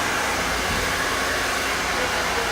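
A hair dryer blows steadily close by as it dries hair with extensions in big sections, a loud continuous airy roar with no break and no voices.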